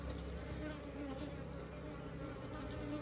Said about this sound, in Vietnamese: Các bác nghe được cái tiếng ong bay thì biết rồi đấy.